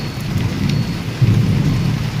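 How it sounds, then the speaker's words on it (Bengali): Heavy rain falls steadily outdoors, heard from inside a kitchen as a dense, loud, continuous wash with a low rumble underneath. "তো দেখো এদিকে নেমে গেছে বৃষ্টি"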